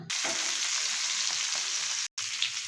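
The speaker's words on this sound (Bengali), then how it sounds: "গ্যাসটা লো করে এবার মাছগুলোকে ভেজে নেব" Fish frying on low gas in a small amount of oil in a kadai gives a loud, steady, close sizzle that runs continuously, with one brief drop to silence near the end.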